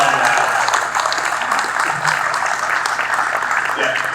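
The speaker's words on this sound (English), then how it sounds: "Yeah, you can applaud that." An audience at a county mass vaccination clinic claps steadily throughout, a dense, close wash of applause with no break.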